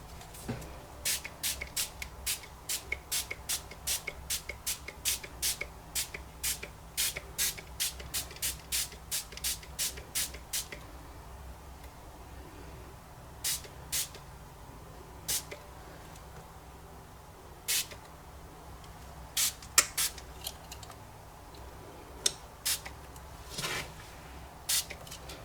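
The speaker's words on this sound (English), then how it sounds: "I'm just going to spray with a little bit of water." Water misted from a hand spray bottle onto a Brusho and mixed-media painting of a bee, sounding as a quick run of short, crisp spritzes followed by a few scattered single bursts, close and fairly quiet.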